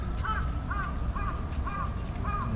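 Crows in Hiroshima, Japan caw outdoors in a regular series of about five harsh calls, moderately close over a steady background hum.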